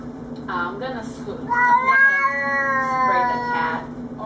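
An upset domestic cat yowls at another cat, a close, loud rising caterwaul that swells and wavers for several seconds over a low continuous growl.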